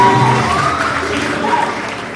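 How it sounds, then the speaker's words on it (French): Wedding guests applauding a newly married couple: a loud, steady wash of clapping that fades slightly toward the end. "Applaudissez s'il vous plaît."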